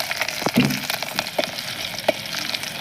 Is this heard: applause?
no